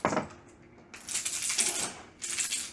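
Dice tossed during a tabletop role-playing game clatter on a table in two quick bursts of rattling clicks, fairly close and moderately loud.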